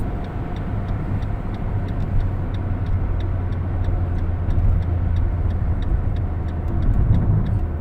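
A car slows on its approach to a slope during a driving lesson, its engine a steady low hum inside the cabin while a turn signal ticks in an even rhythm throughout.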